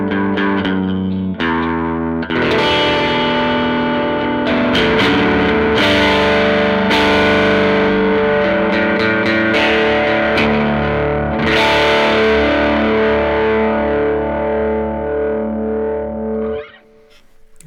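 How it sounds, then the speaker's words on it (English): Electric guitar run through a Neural DSP Quad Cortex with delay and vibrato, playing loud, sustained distorted chords and notes with a wavering, chorus-like shimmer and echoing tails for about sixteen seconds before cutting off abruptly. "when you put the vibrato into all that, I think it helps give it something like a chorus without being a chorus sound."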